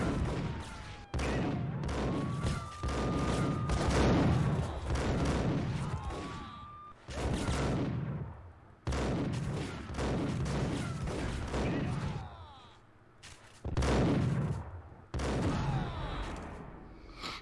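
Repeated bursts of gunfire fill a shootout in the Max Payne video game, loud clustered volleys separated by short pauses, with someone talking over parts of the action.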